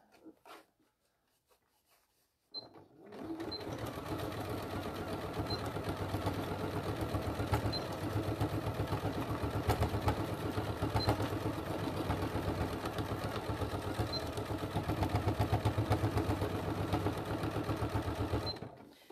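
A sewing machine stitching a faux leather clam shell pouch starts after a short quiet moment and then runs continuously with a loud, steady mechanical whir and rapid needle rhythm to the end, without talk.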